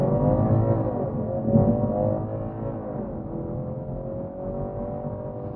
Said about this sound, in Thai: เดี๋ยวเราจะไปลองเทส อัตราเร่งกันนะว่า อัตราเร่ง จะเป็นยังไง